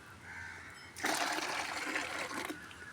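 Water poured into cow dung in a garden to make natural fertilizer: a faint low trickle, then a louder splashing gush for about a second and a half before easing off, with no talk.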